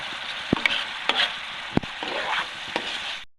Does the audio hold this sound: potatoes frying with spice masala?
yes